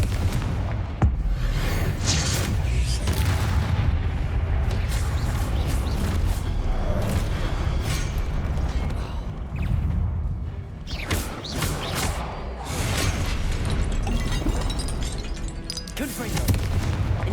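Blasting spell explosions in Hogwarts Legacy, dense overlapping booms and bursts with game music and effects running continuously throughout, loud and busy, with a voice shouting spell names over the top.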